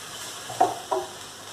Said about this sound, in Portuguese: vou colocar o brócolis aqui dentro. E vou dar aqui uma mexidinha pra pegar cheirinho, gostinho do alho da cebola